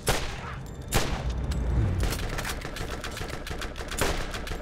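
Rapid bursts of gunfire in the video game Borderlands crackle in quick succession, loud and punchy, with a few heavier booming shots mixed in and no speech.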